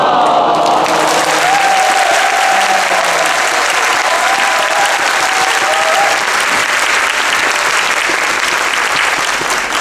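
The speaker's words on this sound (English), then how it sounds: "let forth with a full-throated awe followed by hearty applause" A cruise-ship audience at a comedy and improv show bursts into loud, hearty applause, a thick sustained roar of clapping with faint tonal voices beneath it at the start.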